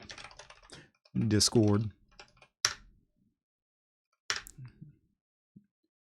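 Quick bursts of typing on a computer keyboard during a software install, nearby clicks coming in short clusters separated by pauses, with a person talking over parts of it.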